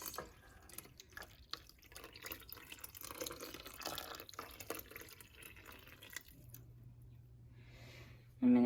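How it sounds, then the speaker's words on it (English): Dye is poured into wool, giving soft, quiet splashing and dripping with wet squishing sounds, then a brief lull and faint trickle near the end. "I'm gonna pour the dye into the wool."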